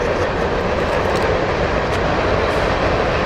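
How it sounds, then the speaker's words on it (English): A train rumbles past in a video game, a dense, steady roar that stays loud and even for a few seconds with no voices over it. "Hurry, there's a train"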